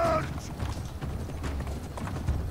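Horse hooves galloping in the siege battle game Conqueror's Blade, a steady, dense clip-clop of several mounts close by under a voice.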